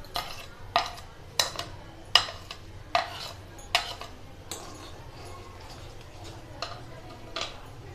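Spoon stirring sugar into milk in a pot, a run of sharp metallic clinks and scrapes against the pot side in an uneven rhythm, close and fairly quiet.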